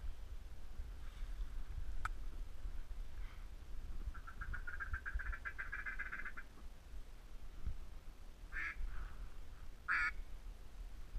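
Ducks quacking during a duck hunt outdoors, a run of rapid quacks followed by a few separate calls, moderately distant over a steady low rumble of wind.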